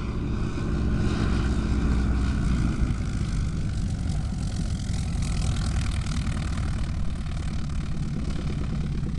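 A propeller-driven harbored aircraft taxis in at an airfield for an aviation gathering, its loud, steady engine drone and propeller buzz filling the whole stretch without any talk.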